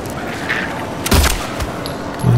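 Gunfire in the Silent Hill 2 horror game: a short burst of sharp shots lands in the middle, loud against a dim ambient background.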